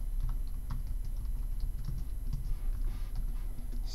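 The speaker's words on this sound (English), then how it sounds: "So I'll just have to type that myself." Steady, fast clicking of a computer keyboard as code is typed, close and continuous for a few seconds with no speech over it.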